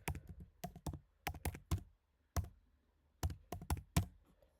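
Fingers type on a computer keyboard in quick clustered bursts of crisp key clicks, close and fairly quiet, with brief pauses between runs.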